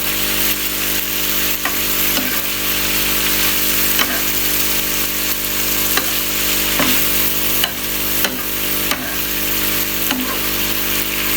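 Chicken meat sizzles and fries in a small amount of oil in a pan, a constant crackling hiss broken every second or two by sharp scraping stirs.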